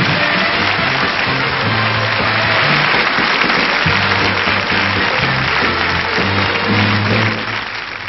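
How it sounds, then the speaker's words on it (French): A television studio audience at a 1977 French music show applauds loudly and continuously, with a band playing underneath, before the clapping fades near the end. "On applaudit très très fort."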